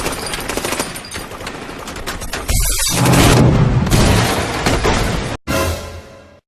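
A John Wick shootout erupts in loud bursts of automatic gunfire and heavy booms, with rapid volleys building up and then a sharp cut before the firing resumes.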